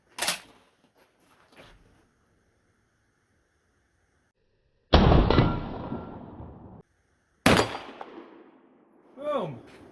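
Folding shotguns fired at an outdoor range: a sharp blast at the start, then two heavy, loud close shots several seconds apart, each trailing off, with brief voices between them.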